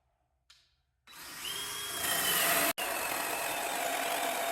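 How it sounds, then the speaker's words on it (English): A DeWalt drill spins up and drives a 2-inch hole saw into 1-inch pine stock, a loud whining cut that rises in pitch and runs steadily, with one abrupt momentary dropout partway through. "I'll break out a hole saw, cutting a 2-inch hole in 1-inch stock pine"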